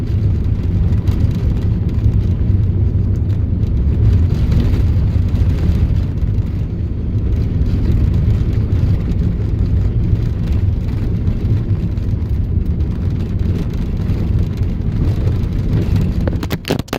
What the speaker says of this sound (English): This is the nicest dirt road I've ever taken the car on